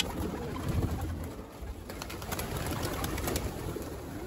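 Pigeons coo softly and repeatedly in a loft, several birds at once, with a steady rustling background and no talking.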